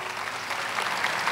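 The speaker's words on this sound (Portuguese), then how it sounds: "Vamos aplaudir a graça de Deus?" Church audience applauding together in a steady, dense wash of clapping that holds at an even level throughout the short stretch, with no voices standing out above it.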